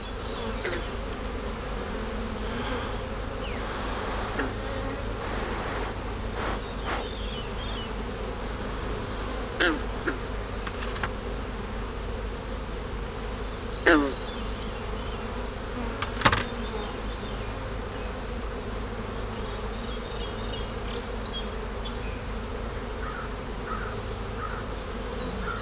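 Honeybees drone steadily around an open hive as frames are pulled from the colony for inspection, with a dense, continuous buzz and a few louder passes of bees flying close by.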